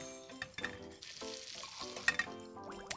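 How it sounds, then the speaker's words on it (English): Beef for Mongolian beef sizzles and bubbles hard in a hot pan, a close, continuous crackling fry with spits and pops, plus a few stirring clinks and a faint background voice. "Oh, look at that go. That is just boiling away."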